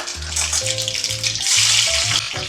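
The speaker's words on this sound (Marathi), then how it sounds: "कढईमध्ये तेल तापलेलं आहे तर आपल्याला टाकून घ्यायचं आहे मोहरी पाव चमचा मोहरी टाकून घेऊ" Mustard seeds and cumin sizzle in hot oil in a kadhai, a steady bright hiss running beneath loud background music with a low melodic line.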